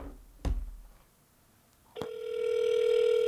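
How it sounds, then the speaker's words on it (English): An outgoing call on a mobile phone: a couple of sharp clicks, then a loud steady ringback tone starts and holds clearly on the line with no voices. "Oh, okay, we're ringing."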